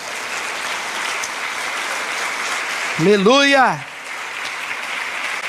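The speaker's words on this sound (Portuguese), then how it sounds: "Você pode aplaudir o Senhor?" A church congregation applauding during a sermon, dense steady clapping filling the whole stretch, with a preacher's loud shout breaking in partway through.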